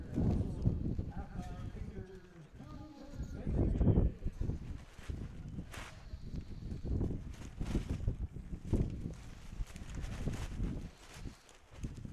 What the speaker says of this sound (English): And yes, folks, it has just picked up wind-wise here.